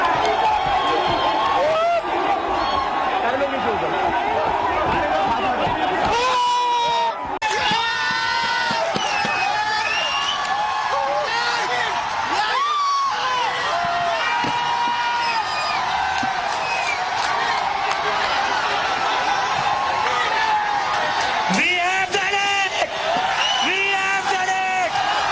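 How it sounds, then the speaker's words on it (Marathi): A crowd of students and Cockroach Janata Party supporters celebrating at Jantar Mantar, with shouts, whoops and cheering in a dense, continuous din. Voices talk and yell throughout. "धर्मेंद्र प्रधान यांच्या राजीनाम्यानंतर कॉकरोच जनता पार्टी आणि विद्यार्थ्यांनी जंतर मंतरवर जल्लोष केलाय"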